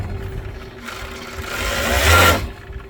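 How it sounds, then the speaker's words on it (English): An overlocker serges the edge of a handbag strap, a steady mechanical whir that swells into a louder, faster burst of stitching near the end before dropping away. "we're gonna overlock this one edge"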